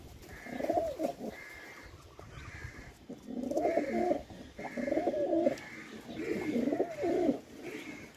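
Several adult pigeons coo in repeated soft, throaty phrases, close by, with brief pauses between calls over light background noise.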